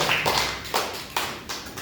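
Classmates give a student a short round of applause in a classroom, a few close, distinct claps in a loose rhythm lasting under two seconds.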